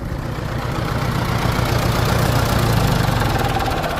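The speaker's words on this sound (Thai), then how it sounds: "นี่เวลาดับเครื่องนะ" A Ford 5000 turbo farm tractor engine running at a steady loud idle with a low rumbling knock, close by, before being shut off; no clear stop is heard and no one speaks.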